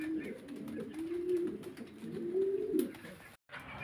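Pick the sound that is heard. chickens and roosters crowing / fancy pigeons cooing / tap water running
fancy pigeons cooing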